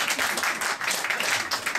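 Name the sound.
audience applause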